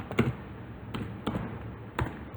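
A few separate key presses on a computer keyboard sound close and clear, three sharp taps spaced unevenly over a quiet background.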